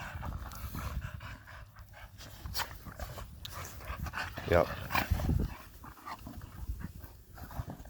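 Pet dogs named Loso and Bo pant close by in quick, breathy rhythm throughout, with a brief whimper, while someone talks over them.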